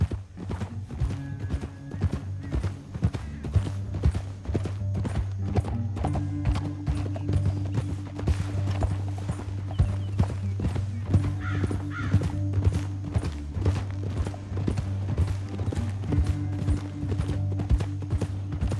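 Steady clip-clop of horse hooves at a gallop in the video game Red Dead Redemption 2, loud and close, running throughout over a droning musical background, with an occasional whinny.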